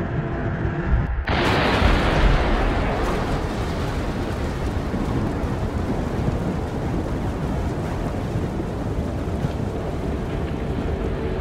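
A sound-effect blast from an improvised explosive device hits with a sudden loud onset, then rolls on as a dense, sustained rumbling roar for about ten seconds.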